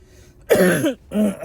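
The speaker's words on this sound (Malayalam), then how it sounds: "ഭയങ്കര ചുമയാ. ചുമ എന്ന് പറഞ്ഞാൽ ഒന്നൊന്നര ചുമ." A person with a heavy cough gives two short, harsh coughs or throat-clearing bursts, close and loud, with a brief pause between them.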